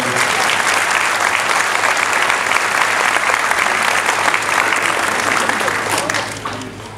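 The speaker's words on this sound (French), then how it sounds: "On peut l'applaudir" An audience at an honorary citizens ceremony in Florange, France, applauds loudly and steadily, a dense wash of clapping that keeps going for several seconds before tapering off at the end.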